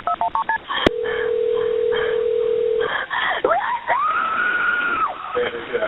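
A phone dials 911 in a recorded emergency call: a quick run of keypad tones, then a long steady tone, followed by a rising warbling ring, all fairly loud and close.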